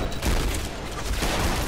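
A thrown grenade bursts in the first-person shooter Trepang2, heavy booming blasts and crackling gunfire-like rumble filling the short stretch loudly with no talk.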